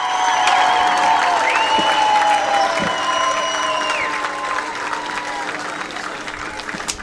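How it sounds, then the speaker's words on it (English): At a high school baseball awards ceremony after a Class 6 third-place game, a crowd applauds the third-place Jackson Indians. The clapping and crowd noise are sustained, with some drawn-out tonal sounds running over it. "let's give a big round of applause for the Jackson Indians"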